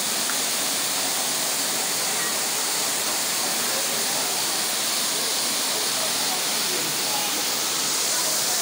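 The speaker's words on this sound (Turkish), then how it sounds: "Burası Gizli Kent Şelalesi" Gizli Kent waterfall near Fethiye, Muğla, pours with a dense, constant broadband roar of rushing water, loud and close, unchanging from start to finish.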